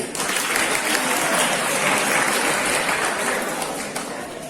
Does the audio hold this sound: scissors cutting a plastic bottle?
no